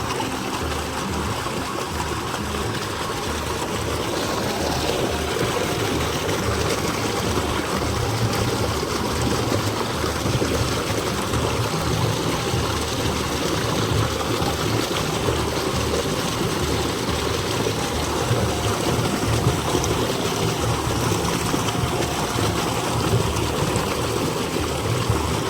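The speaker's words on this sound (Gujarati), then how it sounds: "તમને બતાવી દો લાઈટ મોટર ચાલુ કરી દીધી છે. એટલું પાણી કાઢે છે એ" An electric water pump motor hums steadily while water gushes out in a continuous, rushing flow with no pauses.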